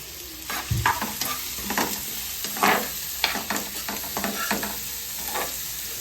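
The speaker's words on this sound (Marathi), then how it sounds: "शिजून म्हणजे फ्राय करून घेऊया. जिरं आणि मिरची आणि आलं" Cumin, chili and ginger sizzle in a hot pan while a spoon scrapes and stirs in irregular strokes, close and steady with no talking.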